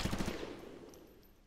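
Machine gun fire in the video game USC Counterforce: a rapid burst of heavy automatic shots at the start, then a booming echo that fades away over the next second, loud and close.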